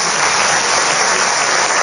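Loud, dense applause from an audience cheering folk dancers at the official closing of a cultural festival in Salta, a continuous wash of clapping heard close and alone throughout.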